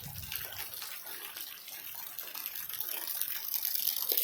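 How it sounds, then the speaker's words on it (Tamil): Rainwater flows through a residential area in a steady broadband wash, like a gushing tap, that builds slightly louder toward the end, with no voices. "குடியிருப்பு பகுதியில் மழைநீர் தண்ணி இந்த மாதிரி ஓடிட்டுருக்கு."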